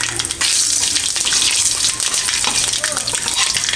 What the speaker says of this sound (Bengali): শুকনো লঙ্কা ফোড়ন দেব, আর একটু সর্ষে দেব